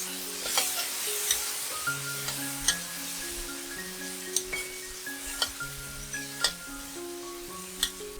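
Stir-frying in a wok with vegetarian oyster sauce and soy sauce for a vegetarian braised pork rice dish, a steady sizzle with regular clinks and scrapes of a utensil against the pan, while melodic background music plays throughout.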